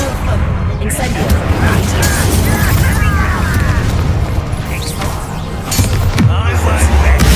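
A fiery Incendio spell blast in Hogwarts Legacy erupts amid loud battle noise, a dense roaring rumble with crackling bursts and clashes that keeps going throughout, with a character voice heard over it.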